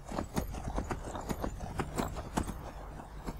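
Hooves of a ridden horse in the video game Skyrim clop in a quick, even rhythm, a close series of sharp thuds repeating throughout with no voices.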